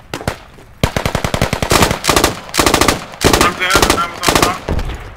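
Machine gun in the video game Squad firing several short controlled bursts, loud and close, each burst a rapid string of sharp reports separated by brief pauses.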